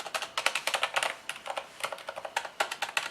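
Rapid, uneven keystrokes on a Corsair K70 RGB MK.2 Silent mechanical keyboard, with soft, damped clicks on the small keys and a few sharper, louder presses. Heard close up and alone.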